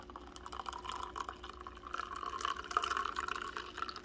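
Milk pours steadily into espresso in a thin stream, a soft continuous trickle close by, with no talking.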